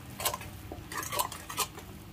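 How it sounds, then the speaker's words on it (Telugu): A spice masala for paddu egg masala gets stirred in a pan, with quick light scrapes and clinks of a spoon against metal in a short burst, fairly quiet. "బాగా కలుపుకోవాలి."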